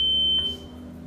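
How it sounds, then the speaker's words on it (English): An electronic voting machine gives a single sharp, high-pitched electronic beep while set to candidate mode, ringing steadily then cutting off, leaving a quiet hum. "You will see Set Candidate flashing with a beep sound."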